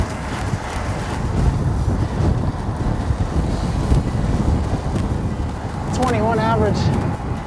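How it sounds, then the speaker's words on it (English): Strong wind at the JGRMX motocross track buffets the microphone with loud, low rushing gusts throughout, and a brief voice rises near the end. "It's so windy."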